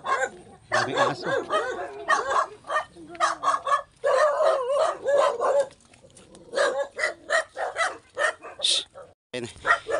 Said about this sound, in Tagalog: Hinahabol tayo ng aso mga paps.